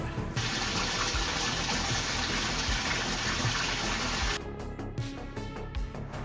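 Jetted bathtub set in a mortar bed runs its water jets at full power, a loud, steady rushing gush for about four seconds that then cuts off, leaving lighter splashing and dripping.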